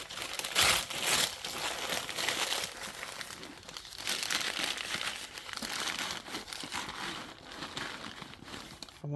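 Paper is crumpled by hand to pad the bottom of a sunflower garden Mother's Day basket, a steady, close crinkling and rustling that continues for about nine seconds with no talking.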